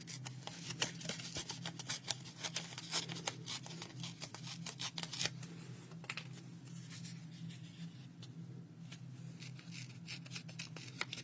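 Leftover paper for a collage is torn and handled up close, with quick crisp ripping and rustling bursts that thin out toward the end, quiet and without speech.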